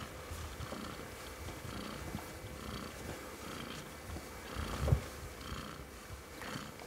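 A long-haired cat purrs steadily in a low continuous rumble, close and moderately quiet, with a slightly louder swell near the end and no talking.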